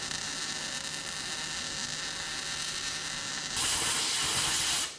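A welder fills a gap in the cowl of a 1967 Toyota Stout, producing a steady, close electric hiss and crackle that grows louder toward the end before cutting off abruptly.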